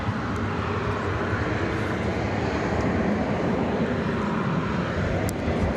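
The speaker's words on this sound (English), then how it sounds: "That plane that just touched down was coming in from Omaha" A passenger jet airliner, a Boeing 737-800, at Dallas/Fort Worth International Airport just after touchdown, giving a steady, loud, broadband engine roar that holds constant throughout with no talking.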